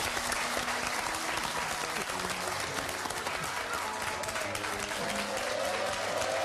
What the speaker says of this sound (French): Et je vous demande de le découvrir et de l'applaudir comme il se doit